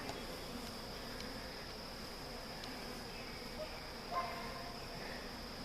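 Honey bees hum around hives in a backyard garden, a faint steady drone with a light insect whine, heard from a short distance with no voices.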